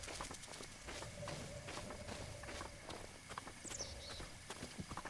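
Horse hooves clip-clop steadily in Breath of the Wild, a rhythmic run of muffled footfalls mixed with game ambience and a few bright chimes.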